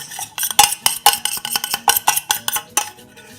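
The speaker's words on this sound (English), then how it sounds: "I scrape out all the chocolate I can get into the mixture." A utensil scrapes melted chocolate from a bowl into a mixture, a quick run of sharp, rhythmic metallic scrapes and taps on the bowl, close and fairly loud, with no talking.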